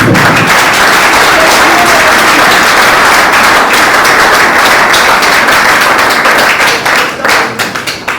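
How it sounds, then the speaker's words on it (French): Loud, dense applause from a student audience in Kinshasa greeting president Martin Fayulu, sustained clapping very close and strong throughout, tapering slightly near the end. "que je vous prie d'applaudir"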